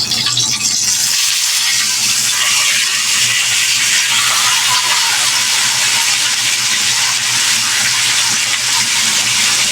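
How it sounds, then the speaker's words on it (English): Food sizzling in a hot pan, a loud, dense, continuous hiss with crackling pops running steadily and close throughout. "It's a pretty awesome sizzle."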